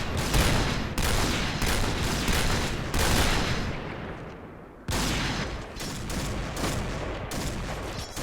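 Rapid bursts of DSR-1 sniper rifle gunfire in the shooter game Point Blank, loud and dense, with overlapping blasts repeating every second or so and a short lull before the firing resumes.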